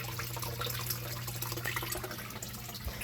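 Water runs steadily in a small waterfall box inside a frog enclosure, a continuous close trickle and splash with a low hum underneath and no talk.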